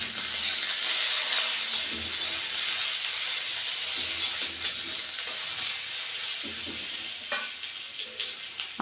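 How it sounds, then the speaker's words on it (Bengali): Chopped onion hits hot oil already tempered with kalonji (black cumin seeds) in a pan, for a jute-leaf (pat shak) dish; a steady broad sizzle runs throughout, with a few sharp stirring clicks near the end and no voices. "একটা ছোট পেঁয়াজ কুচি করে রেখেছি সেটা দিয়ে দিলাম"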